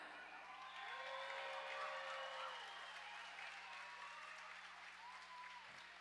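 A crowd applauds and cheers steadily for the Rosebuds juniors at a roller derby exhibition bout, sounding somewhat distant and soft, with a faint voice drifting over the sustained clapping.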